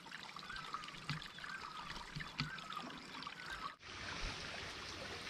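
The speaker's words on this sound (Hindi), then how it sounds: "यहाँ पर कितना पानी आ रहा है, बिल्कुल थोड़ा सा पानी आ रहा है" Small trickle of irrigation water flowing into a farm field, a steady close bubbling wash that runs continuously throughout with no voices.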